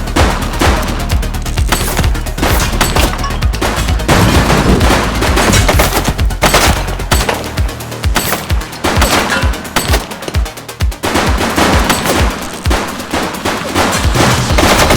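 Sustained heavy gunfire from The Precinct, a cop sandbox video game, with rapid automatic bursts and single shots packed densely together, loud and continuous throughout with little pause.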